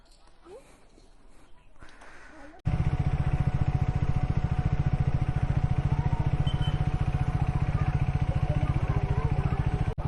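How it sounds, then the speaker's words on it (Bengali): Motorcycle ridden along a road on a short ride out of Kolkata, its engine starting loud and steady after a quieter stretch and droning continuously close by with a rapid, even pulse, with faint voices underneath. "তা আমি একা বাইক নিয়ে বেরিয়ে গেলাম"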